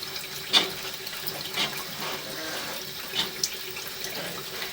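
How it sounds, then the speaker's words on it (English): Water runs steadily through a drain line as a continuous hiss with a few soft gurgling surges and splashes, moderately close and alone. "I'm going to turn this water off and see if it'll clear up"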